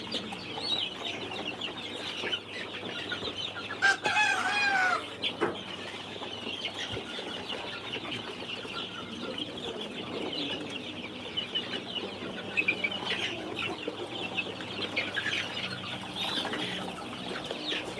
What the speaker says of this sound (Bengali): এটা টাইগার মুরগির বাচ্চা